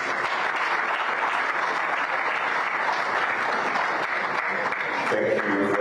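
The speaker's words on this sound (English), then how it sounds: "Please all make the applause please louder." Audience applause after a minister's presentation at a ministerial press briefing, dense continuous clapping filling the room from start to finish, with a voice faintly present near the end.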